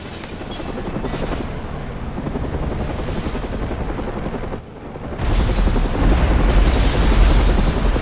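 Fireworks and an explosion in Batman: Arkham Origins, a dense rumbling roar of bangs that dips briefly and then swells into a louder, heavier boom, continuous and close.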